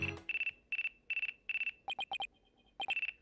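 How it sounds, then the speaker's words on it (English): A cell phone ringtone in the video game Dual Destinies chirps in quick electronic bursts, short trilling beeps with brief gaps, clear and close with no talk over it. "Looks like I have a phone call."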